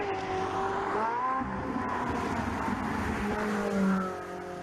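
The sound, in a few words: Ferrari 458 Italia driving and accelerating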